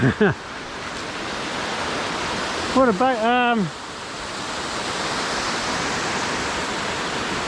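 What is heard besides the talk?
fast-flowing water near a waterfall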